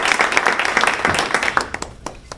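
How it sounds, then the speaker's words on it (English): Audience members at a Rotary Club meeting in Jonesboro Sanford, North Carolina, clap for a visiting guest: a short burst of dense applause that quickly thins into a few scattered, separate claps before fading out. "Let's give him a big round of applause."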